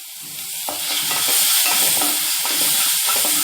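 Steady sizzling of green chili and ginger frying in hot oil, a bright continuous hiss with occasional crackles and stirring noises, close up, no voices.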